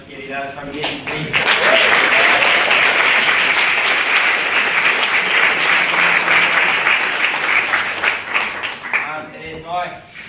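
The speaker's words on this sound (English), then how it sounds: "Massive round of applause for Katie." A debating society audience bursts into loud applause after a speech, dense clapping swelling quickly and holding steady before fading, with brief talk at the start and end.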